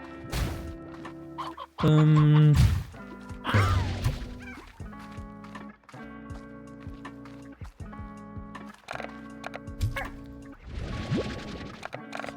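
Synthetic chicken clucks from Slime Rancher repeat in short, rhythmic bursts, with a loud honk-like squawk near the start and a few other game effects.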